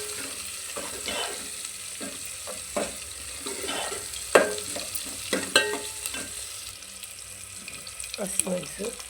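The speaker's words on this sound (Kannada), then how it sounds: "ಸಾಸಿವೆ, ಅದು ಕಾಯಬೇಕು. ಚಟಪಟ ಅಂತ ಸೌಂಡ್ ಬರಬೇಕು." Mustard seeds crackle and pop in hot oil while cooking seeme badane palya (chayote stir-fry), with irregular sharp pops and stirring clatter over a steady sizzle, close and moderately loud.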